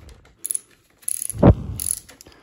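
Screws on a Scotts steering damper being tightened, a few short ratcheting bursts near 0.5, 1.1 and 1.9 s around a heavier thud in the middle, close and fairly loud with no talking.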